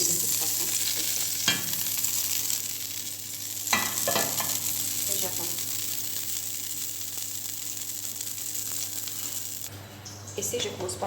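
Butter mixed with a little oil heats in a frying pan, giving a steady, close sizzle and crackle throughout, with a few sharper spits and pops.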